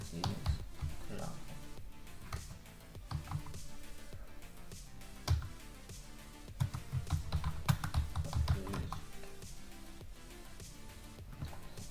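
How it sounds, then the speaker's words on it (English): Rapid keystrokes on a computer keyboard tap out a command in an irregular run of clicks that carries on throughout, under a busy background. "Right now I'm typing gcloud."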